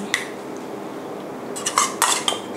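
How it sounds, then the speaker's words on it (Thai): Pineapple pie filling scooped into cups, with a few close clinks and scrapes of a utensil against dishware clustered near the end over a quiet room background. "ตักไส้พายพักไว้ทั้งหมด3ถ้วยนะคะที่เราจะทำในวันนี้"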